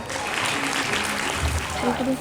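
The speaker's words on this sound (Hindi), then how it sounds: "सभी से अनुरोध है कि जोरदार तालियों से उनका स्वागत करें।" Audience applause at a school Hindi Divas celebration as Class 4 students come on stage, a steady crowd clapping throughout while a voice speaks over it.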